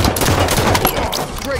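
Sniper rifle fire in the Halo 5 Arena Slayer multiplayer match, loud and close, with dense overlapping gunfire and explosive game effects filling the whole moment.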